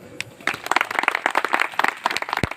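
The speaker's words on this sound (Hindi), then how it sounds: "तो बाबा साहब अम्बेडकर के लिए एक बार ताली बजाई" An audience at a talk on Ambedkar claps in a burst of sharp, uneven handclaps that starts after a brief pause and continues steadily to the end, fairly close and loud.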